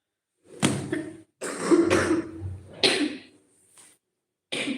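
Several harsh coughs come in short bursts with pauses between them, close and fairly loud, with one more cough at the very end.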